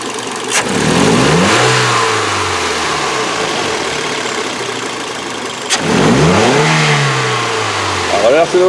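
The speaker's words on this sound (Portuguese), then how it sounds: "Agora ele acelerou ali." A Toyota Corolla V engine that misfires when cold revs twice from idle, each loud surge rising then falling back to a rough idle, with a brief sputter near the end.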